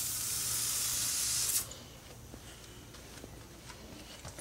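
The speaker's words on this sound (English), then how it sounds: "I'm gonna go get some spray and spray it." A loud, steady aerosol spray hiss lasting about a second and a half, then cutting off into near quiet with a few faint clicks.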